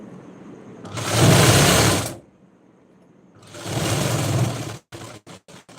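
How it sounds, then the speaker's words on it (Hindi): Electric sewing machine stitching a blouse, loud whirring runs in two bursts of about a second each separated by a quiet pause, followed by a string of short stop-start pulses. "अभी दूसरे का ब्लाउज ली हूँ तो उनका सिलना पड़ेगा"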